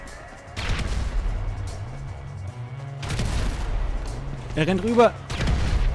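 Hand grenade explosion in GTA Online, with a broadband boom among other game gunfire and bangs, heard under German voices talking throughout.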